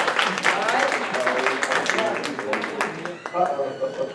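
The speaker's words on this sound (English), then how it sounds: "Clap your hands! Clap your hands!" Steady, dense applause from a seminar audience, many hands clapping at once, with voices mixed in throughout.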